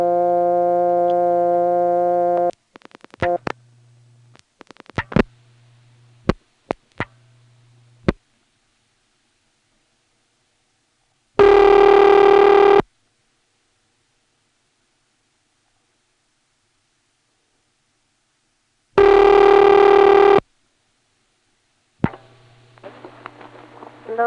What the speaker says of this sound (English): It's hard to hear this because the ring is so loud that it just dwarfs the volume of everything else